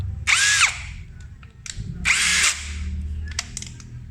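A Yasuka YID-318CB electric impact drill whirs in two short bursts, spinning up and winding down each time, with light knocks and handling noise between.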